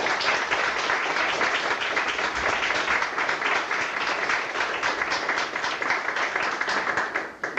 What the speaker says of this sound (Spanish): Pido un aplauso para nuestros amigos.